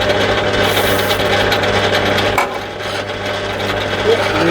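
A 6mm drill bit held in a chuck cuts into a workpiece for a primary sheave tool prototype, giving a steady close grinding whir with a slight dip midway.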